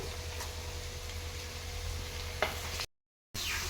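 Chicken curry with carrot sizzling in a pan as it is stirred: a steady low fry hiss with a few faint scrapes and taps, briefly cut to silence near the end, with no talking.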